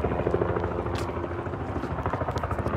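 A helicopter flies over Boston Harbor, its rotor making a steady rhythmic thumping chop at moderate distance, continuous throughout.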